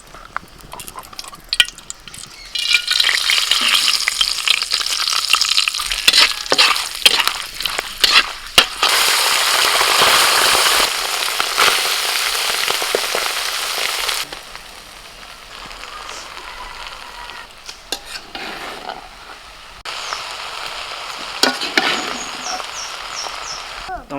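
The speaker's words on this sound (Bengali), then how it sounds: "এবার রাইসটা ভাজবো সাদা তেলের মধ্যে ঘিটা দিয়ে দিচ্ছি" Rice frying in white oil with ghee over an outdoor picnic cooking fire; a loud, steady broadband sizzle and crackle fills most of the clip, dipping briefly before surging again near the end.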